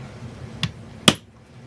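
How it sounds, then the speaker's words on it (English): A center punch is struck against a metal workpiece to make a divot for a drill bit: two sharp metallic taps, a faint one and then a louder, ringing strike, close by with quiet surroundings. "I'm going to take a center punch and create a divot"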